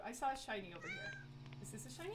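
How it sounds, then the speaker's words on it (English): A cat in the Yomawari: Midnight Shadows game meows several times in short calls while a person talks over it at the same time. "No, that must be a cat."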